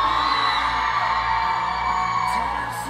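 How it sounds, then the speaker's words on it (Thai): A crowd at a Destiny Clinic promotional event screams and cheers loudly, a continuous high-pitched roar of whoops and yells that stays intense from start to finish. "ขอเสียงกรี๊ด ดังๆให้กับ Destiny Clinic หน่อยจ้า"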